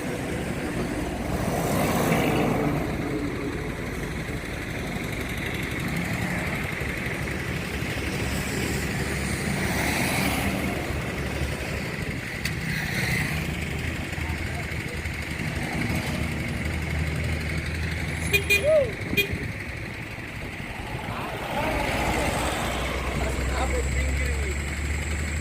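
A car engine drones steadily at close range while a vehicle is pulled out of a roadside ditch, with people talking over the running motor throughout.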